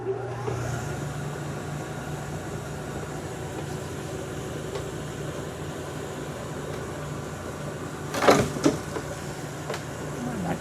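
A machine cuts metal in second gear at about 1050 RPM with a steady, droning mechanical hum, and a couple of brief clanks come near the end.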